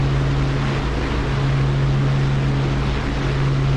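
Aircraft engine in a flight simulator game running as the throttle is advanced, a loud, continuous steady drone with a strong low hum, unbroken for the whole stretch.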